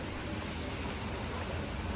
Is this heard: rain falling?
yes